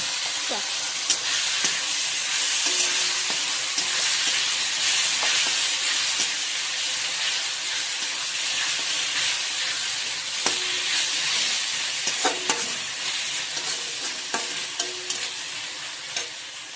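Onion and ginger-garlic paste fry in a pan for a potato and green pea curry, a loud continuous sizzle with scraping stir strokes at intervals.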